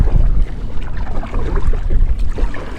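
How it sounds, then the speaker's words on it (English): Strong gusty wind buffets the microphone while kayaking out on open water, a loud, rumbling roar that surges and dips without a break. "Just a bit of wind there."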